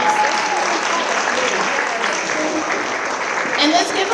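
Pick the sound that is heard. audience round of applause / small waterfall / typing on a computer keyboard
audience round of applause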